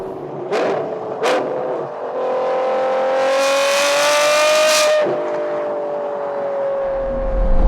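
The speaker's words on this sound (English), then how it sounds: "There's a few wonderful sounds in this world, one of them being V12s, and another one of them being turbo blow-offs." Lamborghini Revuelto V12 fitted with a Gintani exhaust, two sharp blips followed by a long, loud climbing rev that drops away and settles into a rumbling idle.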